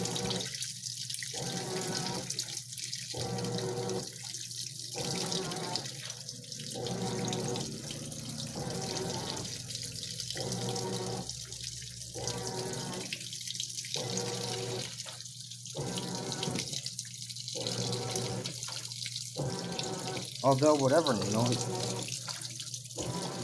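A GE washing machine loaded with thirteen full-size bath towels drains water with a continuous rushing flow, broken by regular pulsing gaps as the drum sloshes, with faint voices under it.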